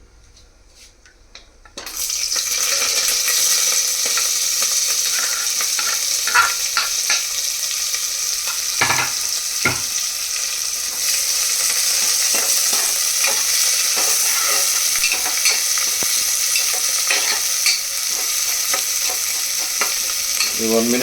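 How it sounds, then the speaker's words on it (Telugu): Small chopped onions and green chillies fry in hot oil with spices for biryani: a loud, continuous sizzle that bursts in after a short quiet start and holds steady, with occasional faint clinks of stirring. "ఆనియన్ కూడా చక్కగా వేగుతున్నాయి."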